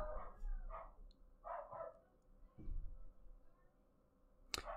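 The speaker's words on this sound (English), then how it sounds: "Why are my dogs barking?" Dogs barking indoors in Cyberpunk 2077, a few irregular bursts of yips and barks at moderate distance, with a sharp click near the end.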